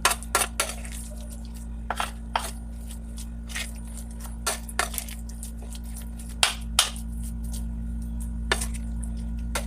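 Utensil clinking and scraping against a bowl while tortang alamang batter of tiny shrimp is stirred, a steady run of sharp, near clicks and taps over a low constant hum.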